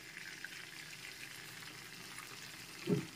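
Two dry red chillies and a little five-spice tempering frying in leftover fish oil in a kadai, a faint steady sizzle with one brief louder stir near the end.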